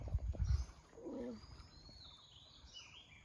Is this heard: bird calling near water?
yes